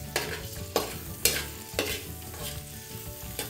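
Ginger sautés in a hot pan for milkfish tocho, a close crackling sizzle punctuated by regular scraping strokes of a spatula roughly every half second, with no speech.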